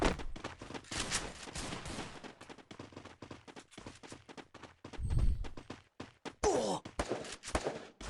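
Gunfire in the Free Fire video game, rapid bursts of shots crackling over busy game audio, with a low thump and scattered quieter pops between volleys.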